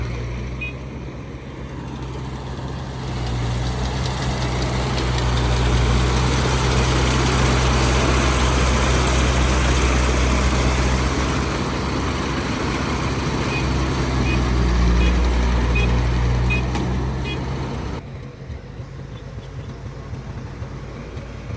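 An ISEKI 698 combine harvester engine runs close by with a loud, steady low rumble that swells slightly mid-way and then drops off near the end.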